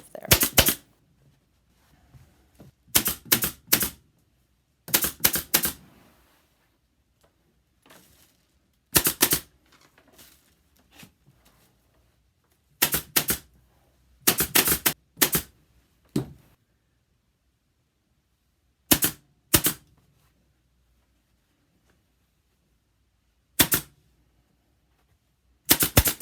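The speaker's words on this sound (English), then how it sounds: "you're just going to staple as best you can around that little curve there" A staple gun fires staples through upholstery fabric around a curve on a headboard, sharp snapping shots in quick bursts of two to four, spaced by pauses, close and loud against near silence.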